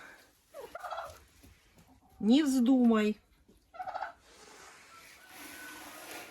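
A turkey gobbles loudly nearby in a greenhouse in a sharp rattling burst, with softer noises from Marans hens around it and a brief spoken remark.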